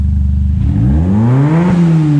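A freshly tuned car engine, recently swapped in, revs loudly to clear old exhaust debris. One strong rising rev climbs in pitch and then eases off, close and without voices.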